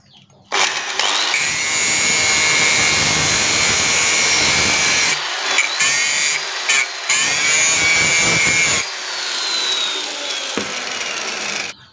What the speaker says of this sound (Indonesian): Ini juga tadi kita gerinda stainless